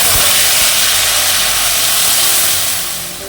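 Whole cardamom, cloves, cinnamon and ginger sizzle in hot mustard oil, a steady loud hiss with a few faint low knocks that eases off toward the end.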